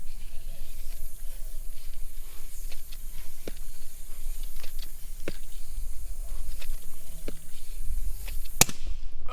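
A small rocket driven only by air pressure launches with a sharp burst of hissing release near the end, after scattered faint clicks and ticks over a steady low background hiss.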